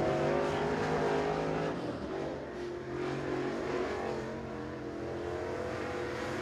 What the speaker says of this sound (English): Next car to qualify. This is the 78 of Barry Martin.